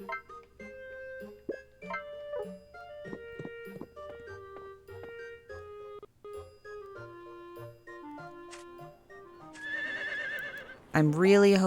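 Plucky video game music plays in a Harvest Moon farming game, then a horse's whinny rises sharply over it near the end, followed by a brief louder neigh.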